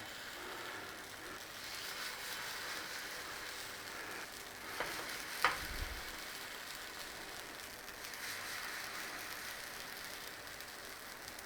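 Pikelet batter sizzling on a buttered griddle pan, a faint steady crackling hiss throughout with a soft thump partway through.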